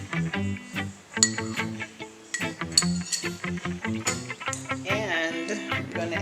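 A utensil stirs beaten eggs into a spinach meatball mixture with purple onions in a glass bowl, producing a rapid run of close, bright clinks and taps against the glass, fairly steady throughout.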